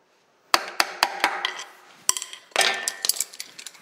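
A screwdriver taps a metal locking plate flat while removing the inner input shaft on a John Deere 710 backhoe, producing close, sharp metallic taps in two quick bursts, about a dozen strikes, with no voices.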